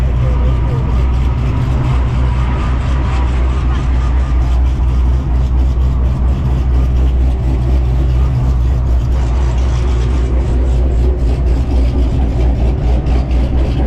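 A turbocharged Mitsubishi Evo engine runs with a steady, loud low rumble close by, holding a constant level with no clear rise or fall.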